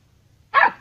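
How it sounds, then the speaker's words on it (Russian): A Patterdale terrier puppy gives a short, sharp bark, loud and close, followed by the start of a second bark after a quiet pause. "Майруш, ты очень наглая собачка."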